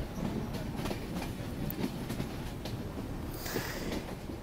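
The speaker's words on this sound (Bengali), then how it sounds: "চাকমোহর রেল স্টেশন থেকে ছেড়ে আমাদের ট্রেনটি খুব দ্রুত গতিতেই ছুটে চলছে রাজশাহীর দিকে" A passenger train on the Dhaka–Rajshahi line runs fast from Chakmohor station toward Rajshahi, giving a constant rumbling roar with rhythmic wheel clatter and a brief high squeal near the end.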